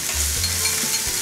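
Beef frying in a pan with a little oil, a steady sizzle with faint stirring and scraping over a soft low hum, close and unbroken, with no voices.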